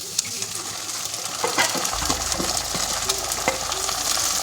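Two beaten eggs poured over frying onion in a pan set off a steady close sizzle, with a burst of spoon clinks and scraping strokes as the mixture is stirred.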